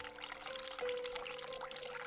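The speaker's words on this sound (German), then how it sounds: "als erstes mache ich mal das Waschbecken hier heißes Wasser an" Hot water runs steadily from a sink tap in The Cat Lady, a hospital setting in the game, a continuous pouring stream with a faint tonal hum behind it, close and uninterrupted.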